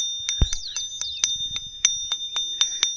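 A metal fishing reel on a budget snakehead fishing combo gives off steady bright rings like a small bell, about ten evenly spaced chimes over a few seconds, close and clear with no talk.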